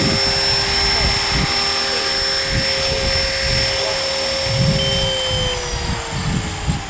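Blade 330S RC helicopter coming in to land outdoors in cold weather, steady high rotor whine and buzzing drone throughout, fairly close, with someone talking over it.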